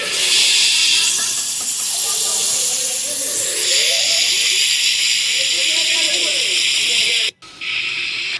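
Pieces of pangas fish sizzle in hot oil in a pan, a loud continuous hiss with crackling spatter, close up; the sizzle drops out briefly near the end, then resumes more softly.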